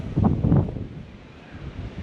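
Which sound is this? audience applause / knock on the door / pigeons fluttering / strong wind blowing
strong wind blowing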